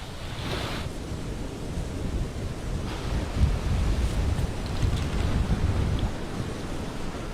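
Ocean surf rolls in at the seaside beside a villa, a steady broad rushing wash with wind over it, fairly loud and close throughout, with no voices.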